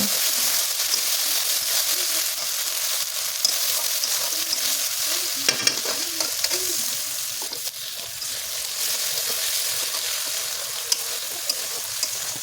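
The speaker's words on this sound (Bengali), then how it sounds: "দিয়ে দিলাম হলুদ এবার এটাকে ভালো করে কষে নেব" Spice paste with turmeric frying in oil for a country chicken curry, stirred steadily with a steady close sizzle and soft scraping throughout, no talk.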